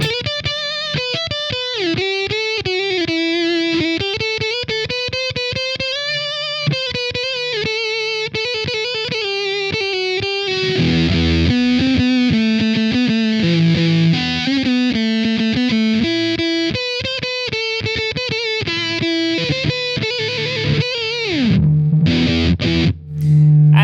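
An electric guitar plays sustained melodic lines through a thick, buzzy KMISE octave fuzz pedal, the tone turning harsher and more saturated partway up the neck and ending in a pitch slide.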